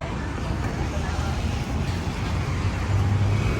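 Heavy trucks rolling along a rough road, a steady low rumble of engines and tyres with wind noise, close and continuous.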